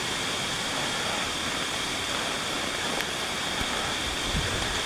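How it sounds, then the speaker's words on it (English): Steady, dense hiss of rain falling on a Great Smoky Mountains trail near Gregory Bald, constant and close with no voices. "it started raining again"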